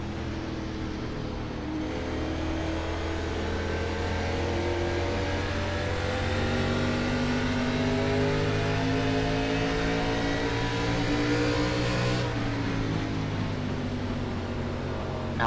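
ARCA Series race car engines in iRacing at New Hampshire hold a steady high drone as the cars circle at speed. The engine note rises gradually and shifts near the end, and there is no talking.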